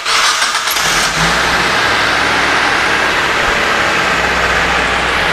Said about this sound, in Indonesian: Mobil ini udah netral, kita starter.